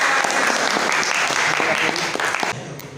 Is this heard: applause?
yes